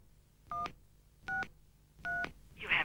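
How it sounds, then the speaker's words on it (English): Three short DTMF keypad beeps from a 1993 Optus mobile phone entering a voicemail passcode, evenly spaced about three-quarters of a second apart over a quiet hiss, then a brief noisy burst at the end. "then I'll enter my passcode."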